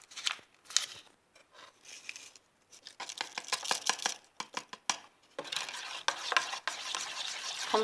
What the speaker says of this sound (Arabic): نخلطوه مزيان ونديروه فوق البوطه.